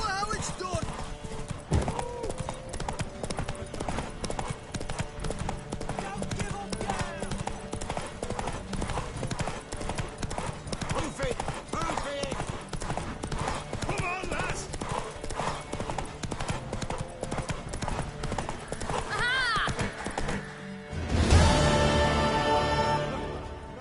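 Horse hooves in The Witcher 3 beat a steady, close galloping clip-clop for most of the time, broken near the end by a louder burst, with voices speaking over the riding.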